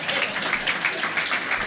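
Audience applause at a panel event on artificial intelligence and European innovation, a steady dense patter of many hands clapping at moderate level for under two seconds with no talk over it.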